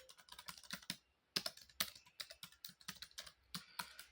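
Quick clattering keystrokes on a computer keyboard as a book title is typed into a bibliography, bursts of close, light clicks with a short pause near the one-second mark.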